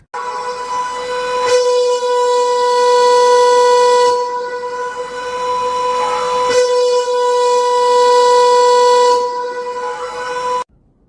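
A Secomak GP8 air raid siren sounds loudly in two sustained steady wails, each holding a strong harmonic tone for several seconds, with brief cutoffs between them and a sudden stop at the end.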